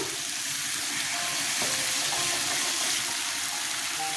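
Potatoes and pointed gourd frying in a pan with spices, a steady soft sizzle running throughout at moderate level, with faint clinks.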